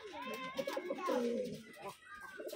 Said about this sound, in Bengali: বাহিরের কবুতরগুলো আপনাদেরকে দেখাই